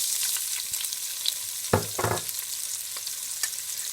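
Onions hit hot oil and fry with a steady, bright sizzle throughout, broken by a couple of louder stirring scrapes near the middle; no one speaks.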